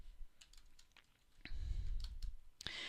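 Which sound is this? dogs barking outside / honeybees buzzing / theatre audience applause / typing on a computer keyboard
typing on a computer keyboard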